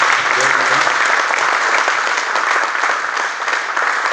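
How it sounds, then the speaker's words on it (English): Loud, dense applause from an audience after a hydrogen panel discussion at an EVOX expo, a continuous wash of clapping that holds steady throughout. "Please give the panel a round of applause."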